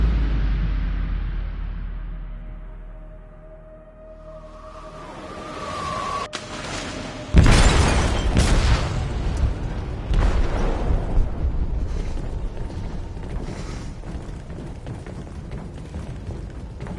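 An explosive detonates in a ship's hold in Detroit: Become Human, a swelling low rumble building to a sharp heavy blast, followed by continuing roaring, crackling debris and turbulence.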